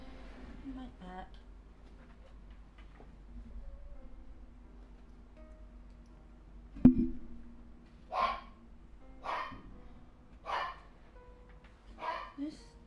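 A dog in the video game Genshin Impact barks four or five times in sharp, evenly spaced yaps over a quiet game soundscape, with a thud just before the barking starts.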